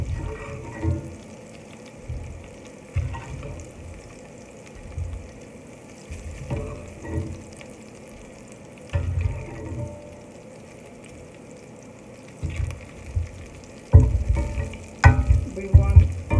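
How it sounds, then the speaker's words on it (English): Flour stirred into hot bacon fat drippings in a dish with a spoon, giving soft scraping, bubbling sizzle in short bursts between pauses, louder near the end. "Just add in our flour."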